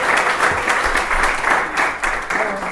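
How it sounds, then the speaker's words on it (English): A live comedy show audience gives a round of applause, a loud, dense wash of clapping from many hands that carries steadily throughout, close and full. "So give them a round of applause"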